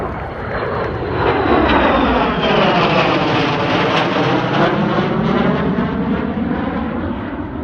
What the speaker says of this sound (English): A solo seat Pratt Whitney powered big F-135